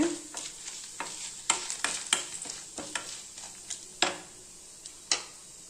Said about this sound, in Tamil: இப்போ நம்ம ஜீரகம், மிளகாய் இதெல்லாம் போட்டுக்கலாங்க. இதெல்லாம் நல்லா வறுத்துக்கலாங்க.